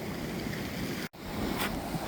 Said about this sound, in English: You can hear how quiet the water's getting as I get further and further away from Bere Point.